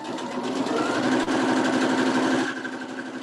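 Sewing machine stitching a quilt block, a rapid, even mechanical whir with a brief click partway through, running close and steady.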